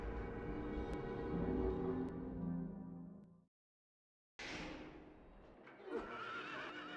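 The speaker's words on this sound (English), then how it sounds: "And also say hello to some horses." A loud horse whinny in the video game Silent Hill 3 rings out, then breaks off into silence before a second rougher neigh with snorting and faint hoof sounds follows.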